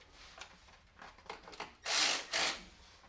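Ratchet wrench with a 13 mm socket turning a bolt on an old column mill, giving faint quiet clicks and rubbing at first, then two loud, close bursts of rasping ratcheting near the end.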